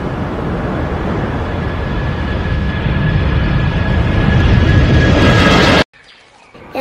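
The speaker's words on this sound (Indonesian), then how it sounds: "Pesawat terbang ini teman-teman untuk mengantarkan kita." A white toy airplane gives off a loud, continuous electronic engine drone with a steady whine riding on top. The drone builds slightly before cutting off abruptly near the end.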